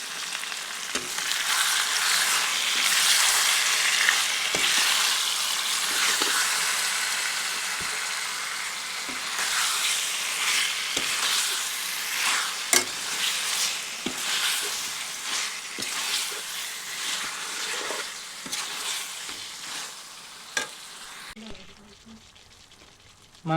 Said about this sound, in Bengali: এরপর এখানে দিয়ে দিচ্ছি ম্যারিনেট করে রাখা মাংসটা। মাংসটা এবারে 5 মিনিট কষিয়ে নিচ্ছি।